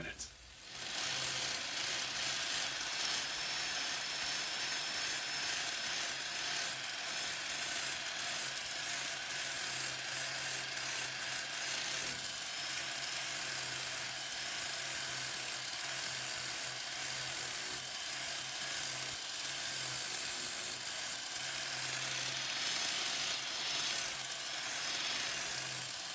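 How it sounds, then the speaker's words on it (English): Steady, loud broadband grinding of welds on a custom bed frame with secret snack doors, a continuous harsh hiss and whine running unbroken for the whole span with small fluctuations and no pauses. "Just 5 minutes of straight grinding."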